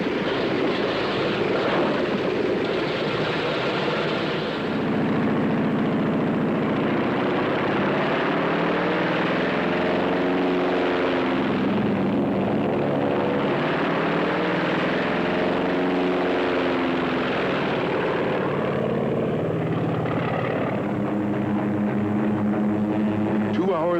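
Carrier aircraft engines, propeller planes, start and run up before takeoff in a steady, loud, rumbling drone with rising and falling engine tones, while voices talk over it throughout.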